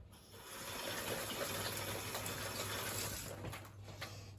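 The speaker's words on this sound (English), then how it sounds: "I'll give my hands a quick wash" Steady broadband rush of a kitchen tap running into a sink while hands are washed, fairly close and even for a few seconds, with a low hum underneath and no talking.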